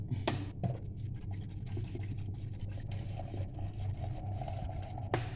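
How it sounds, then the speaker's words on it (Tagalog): Water poured onto chopped celery in a blender jar, a steady splashing trickle with a few sharp clinks and knocks, close by with no talk. "lagyan ko siya ng tubig,"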